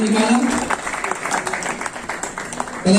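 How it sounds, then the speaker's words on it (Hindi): Audience at a national alumni meet in Delhi clapping to welcome a guest, a burst of applause mixed with voices over it, with someone speaking at the start and again at the end. "तालियों के साथ स्वागत।"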